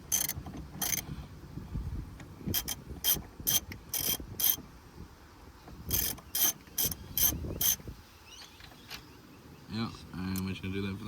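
Ratchet clicking in short bursts while slowly undoing T25 Torx screws on a Holden VY/VZ side mirror, near and crisp with pauses between runs, a few light knocks and a brief whirring tone at the end.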